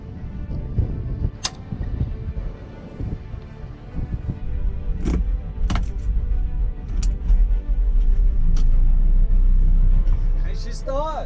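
A truck engine cranks and catches after a fluid check, then settles into a steady low idle that grows louder, with someone talking over the start-up.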